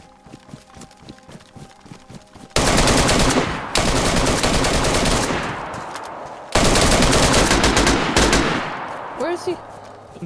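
Bursts of automatic fire from an AN rifle in the video game DayZ, close range: loud sustained volleys around the third and seventh seconds, each trailing off, after a quieter stretch at the start.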